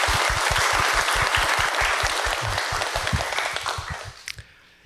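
A church congregation claps during a Sunday service, a loud burst of many hands with a strong beat that slowly thins out and fades to a few last scattered claps.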